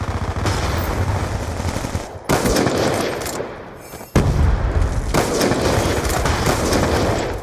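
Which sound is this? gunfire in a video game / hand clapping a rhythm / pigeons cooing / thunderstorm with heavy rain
gunfire in a video game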